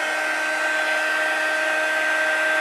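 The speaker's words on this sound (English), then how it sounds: "So now I've put that heat tool on the second setting to melt the embossing powder." A heat tool set to its second setting blows hot air to melt embossing powder on a card, a steady close fan whir with a constant high whine and no breaks.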